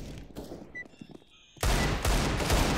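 Gunfire in Counter-Strike: Global Offensive, quiet game sounds giving way to a loud sustained burst of rapid shots that fills the rest of the moment.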